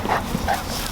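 Farm dogs bark and whimper in a few quick yelps at close range, with roosters also kept nearby.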